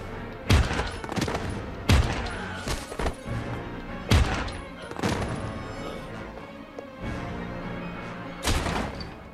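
Gunfire in a video game, several heavy booming shots spaced irregularly, each a sharp loud blast with a rumbling tail, over a busy low background.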